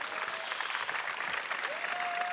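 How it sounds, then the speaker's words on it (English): An audience at a talk applauds astronaut Michael López-Alegría with steady, full clapping from a crowded hall, with a faint whistle-like tone drifting over it. "Нека да аплодираме Майкъл López-Алегрия"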